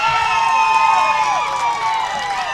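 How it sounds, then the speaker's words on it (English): A Hawaii crowd at a youth baseball game at the Intermediate World Series cheers continuously, a loud, dense roar of many voices with high shouts, steady throughout. "Hawaii crowd is very excited."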